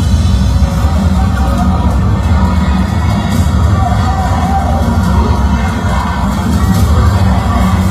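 Loud crowd at a rally shouting and cheering "Duterte" as Vice President Sara Duterte arrives, a dense continuous roar of many voices close by.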